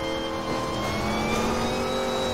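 Car engine in NFS Most Wanted with nitro boost engaged, a loud sustained revving roar whose pitch climbs steadily as the car accelerates, with no talk over it.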